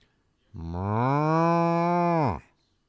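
A single cow moo, drawn out for about two seconds, loud and clear with nothing else over it, played during a live baseball play-by-play broadcast.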